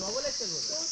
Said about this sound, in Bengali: ঝিঝি পোকাটা যে ডাকতে ওপাশে নেই